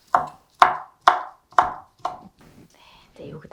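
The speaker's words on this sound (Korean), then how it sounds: "쪽파를 다져주세요. 송송 썰어주세요." A knife finely chops green onions (scallions) on a board: five sharp, evenly spaced cuts ring out close and clear, then give way to quieter rustling and soft handling noises.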